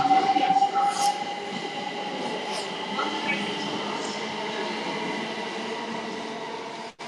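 A train rolls into a Cambridge station platform under an announcement tone, with a steady rumble, faint wheel squeals, and a brief high chime early on.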